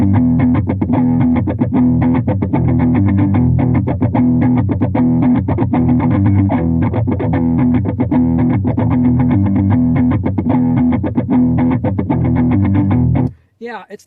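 Electric guitar played through a Headrush Flex Prime unit using a Bogner Ecstasy amp model, with distorted chords and effects mixed at half level, loud and steady, then cut off near the end.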